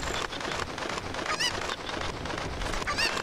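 Cuccos, the chickens of Kakariko Village in a Zelda game, give squawking cluck calls twice over a busy, noisy game soundscape, loud and close.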